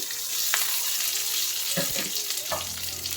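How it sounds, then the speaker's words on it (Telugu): Mustard seeds crackle and pop in hot oil over a close, continuous sizzle, with a few sharper bursts standing out. "ఇవి చూడండి చిటపట పడిన తర్వాత కరివేపాకు"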